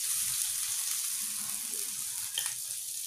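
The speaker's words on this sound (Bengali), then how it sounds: "তেলটা গরম হয়ে গিয়েছে, এবারে আমরা একে একে মাছগুলো দিয়ে দেব।" Tengra fish sizzling in hot mustard oil, a steady bright hiss of frying that stays continuous, with one small crackling pop partway through.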